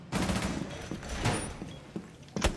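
Rapid bursts of submachine gun fire in Rainbow Six Siege crackle in quick succession, fairly distant and a bit muffled, with a few sharper shots standing out.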